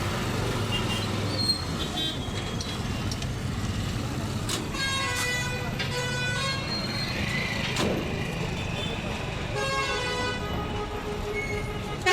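Heavy road traffic with engines and repeated car horns honking, several toots spread through the clip over constant roadway noise.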